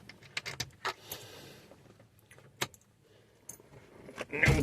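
Keys jangle and click in the ignition of an original, factory-condition 1966 pre-production left-hand-drive Ford Zodiac MkIV, a few sharp metallic taps and rattles close to the microphone, ending in a louder burst as the engine is cranked.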